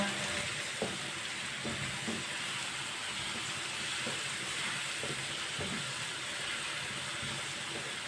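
Grated bottle gourd cooking in a pan, giving a steady, even sizzle and hiss throughout with a few faint soft knocks, continuous and close, with no voices.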